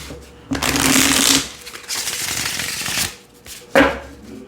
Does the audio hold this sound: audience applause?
no